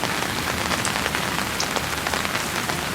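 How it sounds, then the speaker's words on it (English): Heavy rain pours down in Nigeria, drumming on surfaces with a dense, steady hiss and scattered sharper drops, loud and continuous for several seconds with no voices. "It's raining, and I'm in the rain, shooting the rain."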